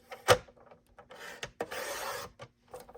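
Designer series paper being trimmed on a paper trimmer, a short scrape followed by a sustained rasping slide of the blade through the sheet, with a few soft handling knocks, close and fairly quiet.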